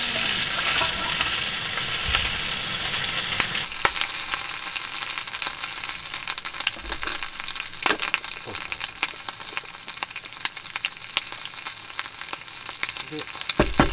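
Bacon frying in a pan during a car-camping meal, a steady dense sizzle and crackle close up that carries throughout with occasional sharp pops and clinks.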